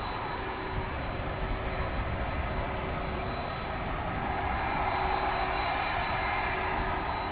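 A British Airways jet airliner passes overhead at DFW Airport, a steady, loud broadband engine roar that holds for the whole stretch and swells slightly toward the end, with a thin high whine running through it.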